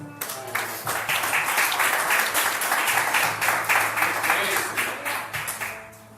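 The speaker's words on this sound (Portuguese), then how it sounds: "Você pode dar um aplauso ao Senhor?" A church congregation claps together in praise, a steady, full wash of applause that rises and holds evenly for several seconds.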